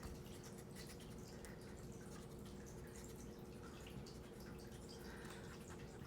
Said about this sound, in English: I have a fountain in my turtle tank over there. That's what that water sound is.